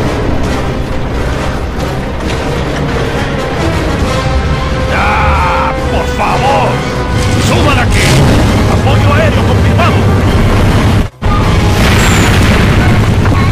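Booming blasts from pirate chicken air support in the Gears of War video game, with loud rumbling impacts rolling over a dense battle din while game voices talk over the top.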